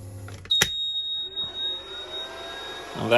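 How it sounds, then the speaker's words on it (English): A flow meter alarm in a workshop with a compressor and welding machine gives a steady, thin high tone that runs throughout, with a brief louder burst near the start and faint background noise. "And that is the alarm for the flow meter."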